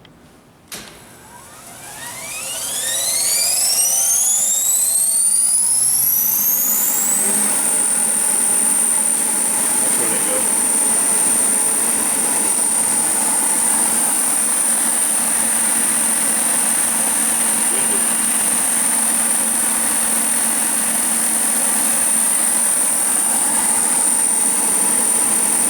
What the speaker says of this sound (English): we'll just power up the ID spindle right now with the belt on